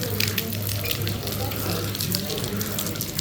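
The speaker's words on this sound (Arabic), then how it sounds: "هذا المي طبيعي يوقع منا من الجبل." Natural mountain water falls and splashes inside a cold cave near Duhok, a continuous loud rushing patter that fills the whole stretch, with someone talking over it.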